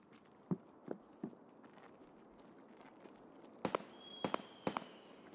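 Scattered gunshots from the video game Escape from Tarkov: a few sharp, fairly faint cracks spread out early, then a tighter cluster of louder bangs near the end, over a quiet ambient background.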